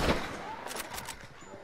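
Gunfire in Red Dead Online as horses are shot, a quick burst of several sharp reports at moderate level followed by fading game ambience.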